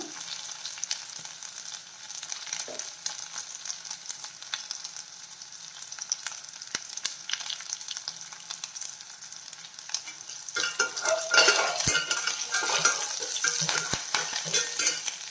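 Curry leaves and green chillies sizzle in hot oil while chow chow curry cooks, a steady crackle that swells louder and brighter partway through, with faint stirring.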